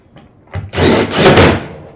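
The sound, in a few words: fastening barrel vault roof tiles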